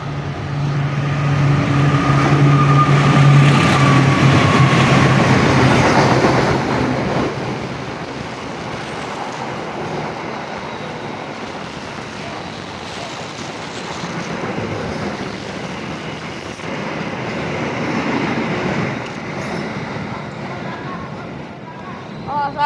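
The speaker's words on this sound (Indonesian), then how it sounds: "Lokomotif CC201 kereta api Dharma Wangsa relasi Pasar Senen Surabaya" CC201 diesel locomotive hauling the Dharma Wangsa passenger train on the Pasar Senen–Surabaya Pasar Turi route roars past loudly with a low droning horn, then a long steady rush of carriages fading slowly.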